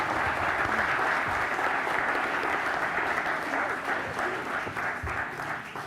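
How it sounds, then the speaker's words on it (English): A packed audience at a cycling and mobility forum in Copenhagen gives a panel a steady round of applause, dense clapping sustained throughout and fading slightly toward the end. "Big hand of applause"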